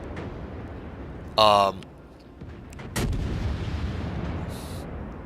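Naval shells fire and land in a video game: a sharp, loud electronic firing burst is followed by a deep booming impact and a lingering rumble, with a voice talking over it.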